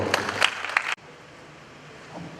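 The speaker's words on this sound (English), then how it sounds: "A round of applause for him." Audience applause at the maiden Asantehene Otumfuo Osei Tutu Art Awards ceremony: a dense burst of clapping for about a second that cuts off abruptly into quiet room tone.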